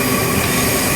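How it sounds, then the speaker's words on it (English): Chinese high-speed train slowing on its approach between Harbin West and Harbin Station, heard from inside a business-class coach as a steady, broad rumble of rolling stock with a faint wheel squeal throughout, no voices. "The train is slowing down."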